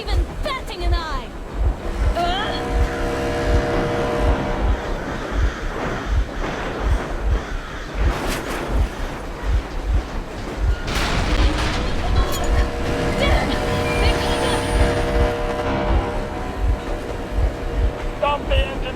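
A steady low engine drone from a boat in the video game Metro Exodus runs throughout, with water wash and occasional thuds, while voices talk over it.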